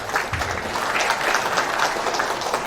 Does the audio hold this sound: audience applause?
yes